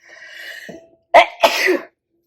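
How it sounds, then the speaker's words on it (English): A quiet breathy intake followed by a sharp, loud sneeze burst and a trailing second burst, heard close up with no talking. "Hold on, I'm about to sneeze."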